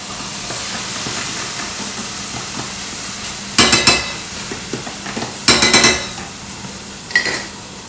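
Coconut milk goes into a hot pan of tonkatsu curry with a steady hiss and sizzle, broken by three short bursts of metallic clatter from a pan and utensil.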